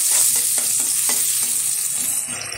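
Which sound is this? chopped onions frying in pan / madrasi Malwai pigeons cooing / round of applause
chopped onions frying in pan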